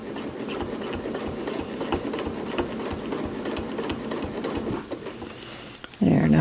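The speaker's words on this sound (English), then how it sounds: "I'm just stitching along" A sewing machine quilting along a 9-inch dahlia ruler template gives off a fast, steady mechanical whir of stitching that runs nearly unbroken. A voice talks faintly underneath, and the machine stops with a louder knock near the end.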